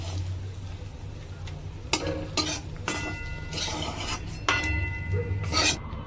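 Fried red amaranth greens cooked with garlic are scraped and lifted from a pan with a spatula, giving several rough rasping strokes over a fading low sizzle, with no talking.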